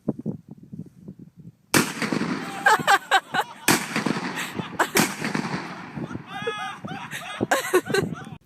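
A shotgun fires Dragon's Breath incendiary rounds in a series of loud, sharp blasts, each followed by a crackling, sizzling burst, roughly a handful of shots spread out with quieter gaps and faint voices in between.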